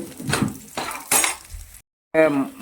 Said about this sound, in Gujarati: હવે આપણે આમાં નાખી દીધું છે લસણ આદુ અને મરચાં હવે કરીએ છીએ આને ફ્રાય